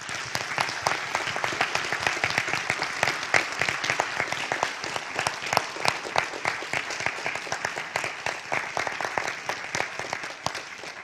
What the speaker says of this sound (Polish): Brawa dla wszystkich wykonawców.